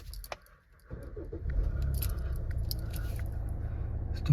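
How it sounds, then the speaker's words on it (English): A Kia Sorento 2.2 CRDi diesel car engine cranks briefly after a faint jingle of keys, then settles into a steady, low rumbling idle close by, with a small bump near the end. "Just start the car up."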